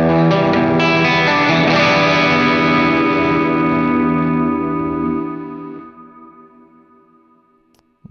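Electric guitar run through an HX Stomp with an impulse response, overdrive and reverb plays a sustained, saturated chord that rings loudly and then slowly fades out with a reverb tail.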